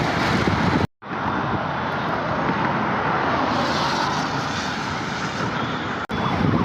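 Busy Mumbai street traffic makes a dense, steady roar of engines and road noise, loud and close throughout, broken by two brief drops to near silence.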